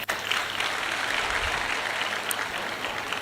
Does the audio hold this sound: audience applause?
yes